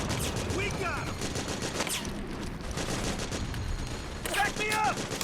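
Battlefield gunfire in the stealth-action game Metal Gear Solid 4, a continuous noisy volley of shots with soldiers shouting orders over it.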